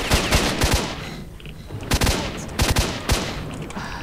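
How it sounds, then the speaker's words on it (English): Gunfire in the S.T.A.L.K.E.R.: Shadow of Chernobyl video game, loud bursts of rapid shots in several clustered volleys with short gaps between them, close and punchy. "Not when they shoot like that!"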